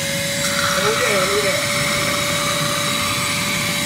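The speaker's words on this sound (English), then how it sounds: "Turn on the old vacuum cleaner." A homemade vacuum fluid extractor drones loudly and steadily with a constant whine, while a person speaks briefly over it.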